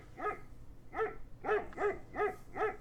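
A dog in The Last Express video game barks six times in a steady rhythm, moderately close, with no talk over it.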